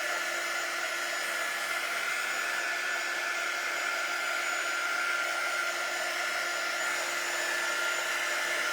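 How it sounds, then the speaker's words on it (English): A heat gun from a Magnolia Design Co creator pack blows hot air to dry stencil paint, giving a steady, loud, unbroken whooshing whine that holds evenly throughout with no talking. "So I'm going to use my heat gun, and I'm going to dry this up"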